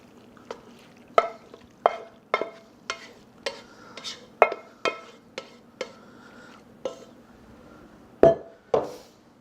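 Hot macaroni, bacon and melting cheese are stirred in a pan with a dozen sharp, regular clinks of a utensil against the cookware over a faint sizzle, close and with no talking.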